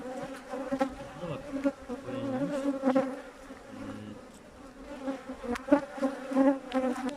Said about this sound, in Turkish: Dün yağmur yağdı. arılar biraz o yüzden stresli gibi.